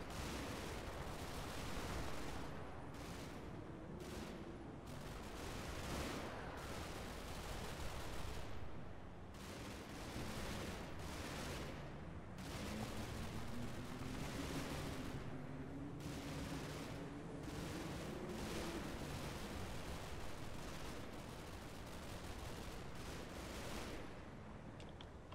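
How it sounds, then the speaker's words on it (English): Machine gun fire in the video game CMFB comes in repeated sharp bursts, some close and some farther off, over a low droning background rumble with no talking. "Pretty much all you can hear is MG fire."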